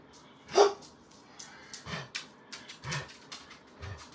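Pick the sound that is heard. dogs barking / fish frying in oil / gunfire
dogs barking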